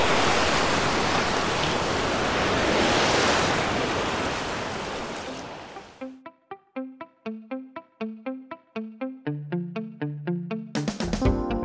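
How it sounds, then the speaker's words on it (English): Big ocean waves break on a black sand beach near Mayon volcano, a loud continuous roar of surf for about six seconds before it gives way to unrelated music. "They have very big waves here, which I love."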